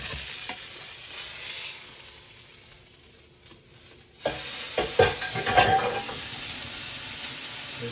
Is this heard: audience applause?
no